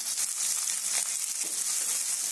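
Dried red chilies fry in hot oil, giving a steady bright sizzle with small crackling pops, close and fairly loud throughout.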